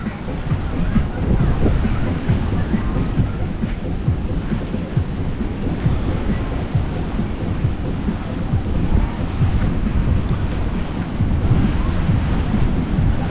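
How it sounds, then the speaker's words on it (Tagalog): Ocean surf and strong wind on a rocky, white-sand shore at Siargao create a loud, continuous roar with heavy microphone buffeting and rumbling wave wash throughout. "Ayan o, ocean."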